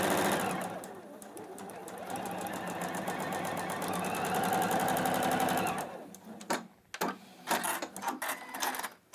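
A sewing machine joins quilt block pieces in one steady, close run of about six seconds, then stops. A few softer clicks and handling noises follow.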